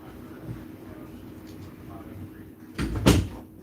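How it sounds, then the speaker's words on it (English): A room door is pushed shut near the end, a soft thud followed by a louder closing knock, after several seconds of low background hum and faint noise. "Let me close that door"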